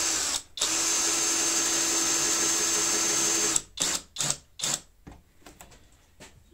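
A power screwdriver drives screws into a wooden beehive built for nucleus colonies and spare queens. One long, steady, close whirring run is followed by several short, sharp bursts.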